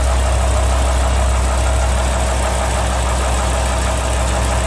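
A BMW M5 with its V10 engine running, a loud, steady, close drone with strong low rumble that holds constant throughout, without talk.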